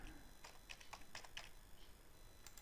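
A PIN is keyed in on a computer keyboard, with a handful of soft, close key taps spaced irregularly over a quiet, faintly humming room.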